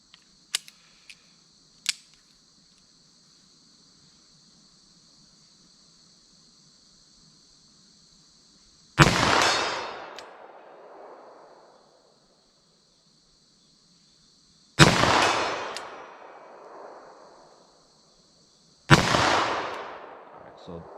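Three loud 10mm revolver gunshots fired into ballistic gel, each a sharp crack followed by a decaying echo, spaced several seconds apart after a quiet stretch with faint clicks.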